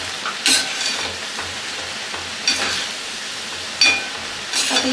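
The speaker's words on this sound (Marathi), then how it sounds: "मी इथे काही कांदा भजी तेलात सोडून घेतलेली आहे" Onion bhaji deep frying in hot oil, a steady close sizzle broken by a few louder stirring or scraping bursts from a utensil in the pan.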